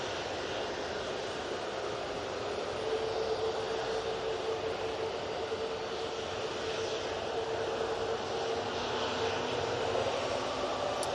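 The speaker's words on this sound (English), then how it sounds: "And we'll throw it over to the Ryanair now. Using the 737 MAX 8 for this flight." A Ryanair Boeing 737 MAX 8 at Manchester Airport gives a steady, moderately distant jet engine roar with broadband rush lasting the whole stretch.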